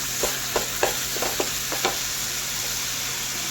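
Masala fries in hot oil and is stirred, giving a soft continuous sizzle broken by about seven short scraping strokes of the spoon, close and fairly quiet, with no voices.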